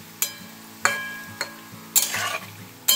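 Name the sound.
palm fruit fritters (taler bora) frying in a wok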